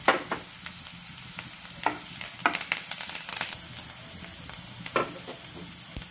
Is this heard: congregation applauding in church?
no